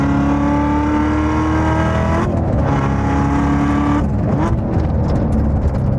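A loud Chevrolet Corvette C7 Z06 with manual transmission drones at high revs on Inje Speedium track, pitch dropping as it shifts, with worn rear tire noise beneath; no voices.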